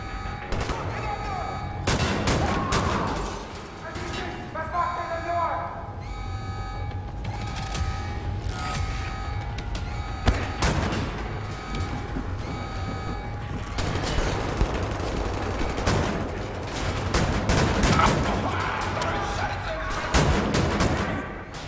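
Enemy gunfire in Wolfenstein: The New Order, dense repeated bursts of shots and booms layered over game music and effects, fairly loud and sustained, with someone talking over parts of it.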